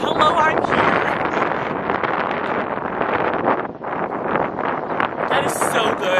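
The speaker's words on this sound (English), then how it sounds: "and the wind said, hello, I'm here." Wind gusts strongly against an outdoor microphone, a loud continuous rumbling buffet that persists for several seconds.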